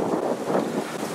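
Strong wind gusts outdoors at a deer hunting site, roaring and buffeting the microphone in close, continuous waves with no voices.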